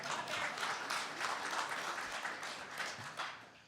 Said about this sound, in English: We're going to clap for Amanda